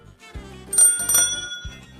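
Small toy bell on a children's busy cube rings a few times, bright and close, amid handling noise.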